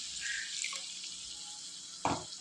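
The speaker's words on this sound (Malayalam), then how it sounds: "ഈ സമയത്തേക്ക് നമുക്കിത് വേകുന്നതിന് വേണ്ടി ഒരു 2 ടീസ്പൂൺ വെള്ളം കൂടെ ചേർത്ത് കൊടുക്കാം" A small splash of water hits tomato and snake gourd sautéing in hot oil in a pan, giving a sudden hiss near the end over a steady background sizzle.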